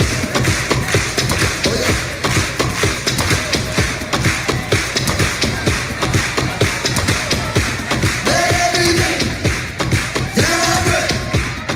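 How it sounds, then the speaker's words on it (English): A church congregation claps along in a steady, even rhythm throughout, the sharp claps repeating at regular intervals beneath a background of music. "Let's clap."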